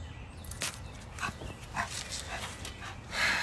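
A dog near a carnivore-diet household reacts to another dog walking past, letting out several short, faint whimpers and yips spread across the moment against quiet outdoor background noise.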